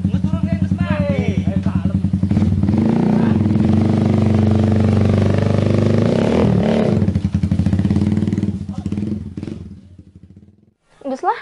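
A motorcycle engine runs steadily and close by for most of the ride, rising and falling slightly before cutting out near the end, with talk underneath.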